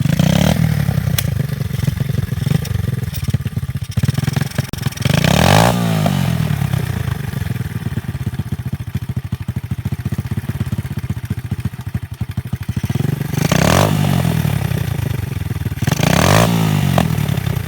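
A 110cc Stomp pit bike engine runs loudly and steadily up close, with a couple of sharp revs rising and falling partway through and again near the end, amid mechanical clatter.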